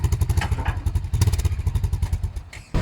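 Motorcycle close by, a continuous rough engine idle and revving with rhythmic pulsing throughout, loud and alone without talk.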